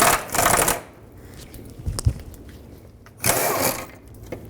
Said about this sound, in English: Remove both 14mm bolts.